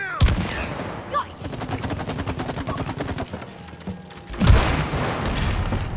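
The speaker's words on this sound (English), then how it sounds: "Shooting this one already." Rapid gunfire aimed at wasps in the co-op game It Takes Two, a fast stuttering burst of shots running for several seconds, with a heavy boom at the start and another near the end.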